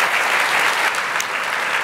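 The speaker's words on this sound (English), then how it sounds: "give a great round of applause to a marvellous panel" Loud, dense audience applause for a plenary panel at a summit, sustained steady clapping from a full hall throughout the short stretch.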